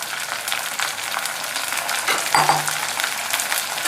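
Small prawns coated in turmeric and salt sizzle in hot oil with a steady, close crackle, and a brief clink of a utensil comes partway through.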